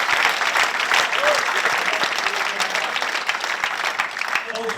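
A crowd claps at a darts tournament final in Sweden, dense sustained applause filling the room, loud and close, with a voice speaking over it.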